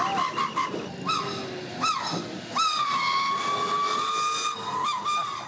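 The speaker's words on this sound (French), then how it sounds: "c'est un sifflet qui est installé dans l'échappement." Loud, piercing whistle blasts from a whistle fitted in a bus exhaust in Kenya, long and short bursts over a rumbling engine hiss, harsh and close, with a few sharp pitch swoops.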